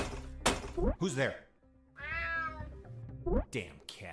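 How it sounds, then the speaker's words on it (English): A cat in the stealth video game Unmetal lets out a few distinct meows. Between them someone speaks, with a soft thunk near the start. "Damn cat."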